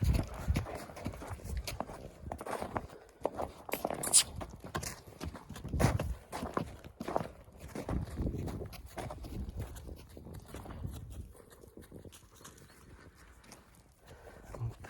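Horse hooves clip-clop on the ground in an irregular walking rhythm, fairly close, with faint background noise and occasional rustles.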